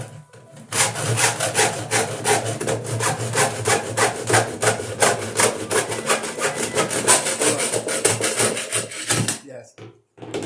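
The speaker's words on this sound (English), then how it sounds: "So first we're gonna cut our wire mold." Hand saw cutting through plastic Wiremold raceway, a fast, even run of close back-and-forth strokes that lasts about eight seconds and then stops, with people talking faintly under it.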